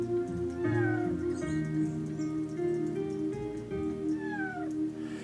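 A cat meows twice with rising-falling cries inside the video game Chrono Cross, heard over a steady game music backdrop with no talking.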